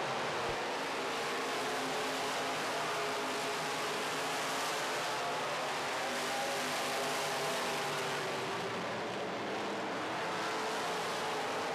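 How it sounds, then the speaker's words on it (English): Modified race cars at a Midwest Mod feature race battle on the track, a steady, loud engine roar that stays broad and continuous throughout with no voices. "Great racing up front as Austin Hunter sticks his wheel in on the 88 of Viert"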